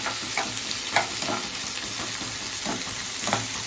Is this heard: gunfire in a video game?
no